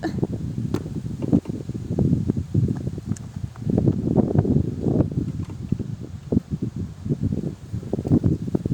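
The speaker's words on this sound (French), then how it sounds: "le vent s'est calmé" Wind gusting into the microphone outdoors, steady rough buffeting rumble with rustling that swells and eases throughout.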